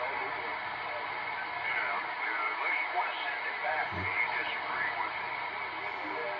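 President Jackson export CB radio from 1985 receiving while its clarifier is tuned, a steady band of static hiss and garbled, warbling signal noise holding at an even level throughout, with a brief low thump midway.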